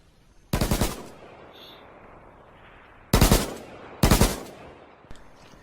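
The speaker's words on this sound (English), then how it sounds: "The AK-47 is a Russian assault rifle, first used in 1949, also known as" An AK-47 assault rifle fires in the video game H1Z1 in three loud, sharp bursts of rapid automatic shots, with pauses between them and a fainter crack near the end.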